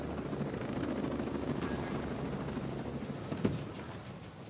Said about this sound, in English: I'm gonna land the chopper over here.